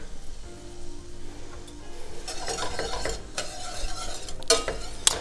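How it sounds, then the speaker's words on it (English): Onions stirred in melted butter in a pan, a soft sizzle under scraping spatula strokes and a few sharp clinks of utensil on metal, close and fairly quiet. "Give them a stir."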